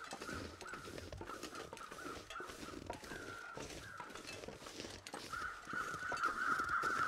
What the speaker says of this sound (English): I would have thought those crows would have moved on by now.